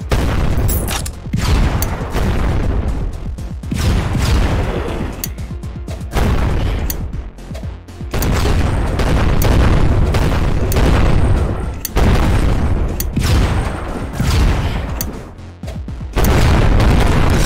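Repeated heavy booming blasts and bursts of rapid fire in the Project Warlock video game, where an enemy fires a rail gun, loud and nearly continuous with brief gaps between volleys.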